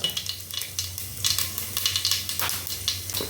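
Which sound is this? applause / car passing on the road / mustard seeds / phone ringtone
mustard seeds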